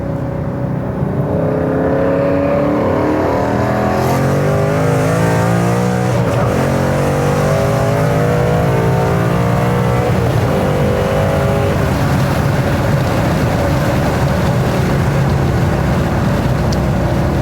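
A car engine revs hard and accelerates up a highway on-ramp, loud sustained roar climbing in pitch through gear changes, heard from inside the car for the whole stretch without talking.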